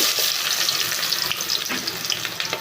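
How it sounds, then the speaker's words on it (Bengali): Chopped onions fry in hot oil with a loud, crackling hiss that rises and falls, close by, with a few stirring clatters and no talk. "এখন আমি পেঁয়াজগুলো সুন্দর করে ভেজে নেব।"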